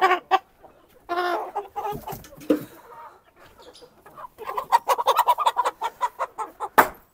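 Shamo chicken chicks clucking on a farm, with a rapid run of close, fairly loud clucks and chirps that grows busier toward the end, after a short stretch of quieter scattered bird calls.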